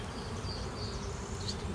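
Honey bees buzz in a dense, continuous hum at an open hive during a beginners' hive inspection, close and steady, with individual bees droning briefly louder as they pass.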